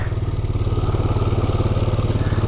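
Honda Foreman ATV engine churning through deep mud, a loud, close, steady pulsing putter with a fast, even rhythm throughout and no voices.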